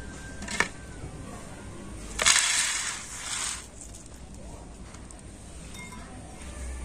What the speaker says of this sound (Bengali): তো এখন আমি এই বোঁদেগুলো একটা প্লেটের মধ্যে ঢেলে রেখে দিচ্ছি।